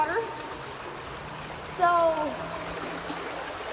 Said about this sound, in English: Look at that, how much water we drain.